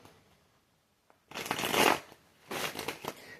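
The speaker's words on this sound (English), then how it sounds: "shuffle a couple more times." A deck of cards being shuffled twice, each a crisp riffling burst close by, separated by a short pause, with no voices.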